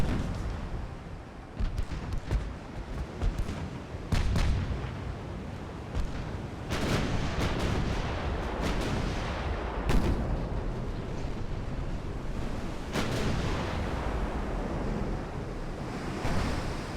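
In the naval video game Ultimate Admiral: Dreadnoughts, warship secondary guns fire repeatedly, with sharp booms scattered over a constant roar of sea waves and wind.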